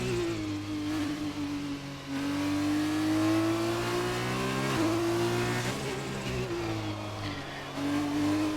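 In a racing video game, a race car powers out of the final turn on a Netherlands circuit. The engine revs loudly and climbs in pitch, breaks at each gear change, and climbs again with rising and falling sweeps.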